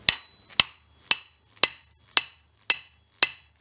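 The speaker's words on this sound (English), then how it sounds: "few little taps and see if we get any movement through there" Seven sharp metallic hammer taps on a roller shaft, evenly spaced about half a second apart, each ringing briefly with a bright metallic tone, close and clear with no talking.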